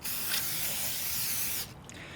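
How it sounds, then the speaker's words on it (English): An aerosol can of brake parts cleaner sprays in one loud, continuous hissing burst for about a second and a half on Dodge Ram 1500 front brakes, then stops, leaving faint background noise. "I'll just use some brake parts cleaner and spray it off"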